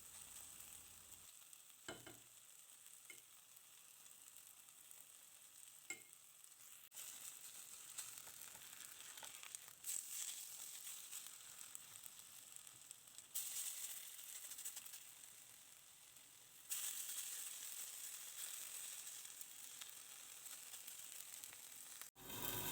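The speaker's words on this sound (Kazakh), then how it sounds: "Осылай картошкамызды майға қыздырып екі бетін қызарғанша қуырып аламыз." Potatoes fry in hot oil in a pan until both sides brown, giving a steady close sizzle throughout with a few louder crackling surges and no talking.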